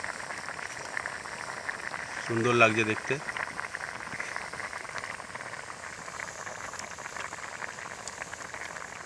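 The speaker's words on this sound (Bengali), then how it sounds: "মিক্স ঝোল ফুটছে" Mixed mushroom and chicken gravy simmers in a pot, giving a steady soft bubbling hiss throughout, with a brief louder clatter early on and a person speaking over it.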